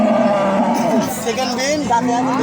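A pregnant Red Friesian cow moos loudly and close by at a cattle market, a drawn-out low bellow with rising and falling pitch, while a voice talks over it.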